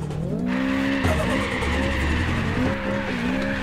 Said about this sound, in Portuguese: Vamos ver quanto que faz o drift.